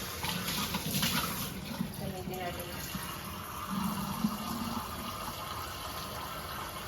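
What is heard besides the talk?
water poured into pot of washed rice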